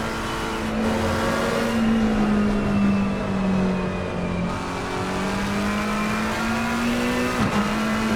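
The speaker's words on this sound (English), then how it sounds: "Let's take a look on board in the McLaren, Kyle Macedo." On-board engine of a McLaren race car at Suzuka in a racing video game, a sustained near drone with the pitch rising and falling through gear changes and a sharp shift toward the end, with no talk.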